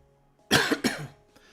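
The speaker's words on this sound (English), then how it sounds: "I just coughed" Two sharp coughs in quick succession, close and loud, followed by quiet breathing.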